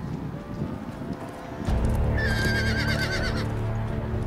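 A horse in the Game of Thrones video game whinnies loudly with a shaky, descending neigh over a steady rumbling background, with no talking.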